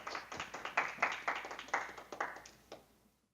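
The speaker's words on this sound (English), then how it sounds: "So please give him a round of applause," Small audience after a talk on classical Greek architecture gives sparse, separate hand claps, about a dozen distinct slaps over three seconds, fairly faint and ending quickly.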